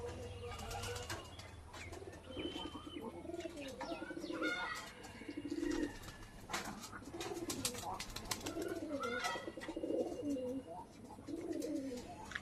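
Pigeons at a rooftop pigeon house coo repeatedly in soft, rolling phrases close by, with scattered chirps and a few brief wing flaps.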